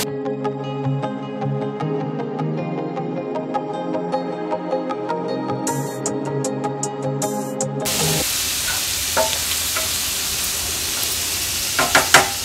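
Small prawns are sautéed in masala, breaking into a loud, close sizzle with a few scrapes after a long stretch of tonal music.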